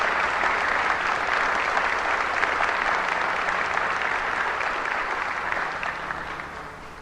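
Sustained applause from a large audience at a Catholic religious gathering, thick even clapping that holds steady for several seconds and then gradually fades.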